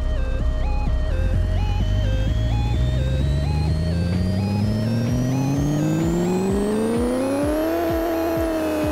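A 3700hp C6 Corvette in the racing video game Pixel Car Racer, its synthetic engine note climbing steadily in pitch for about eight seconds as it revs up, then dropping off sharply, with stepped electronic tones playing in the background.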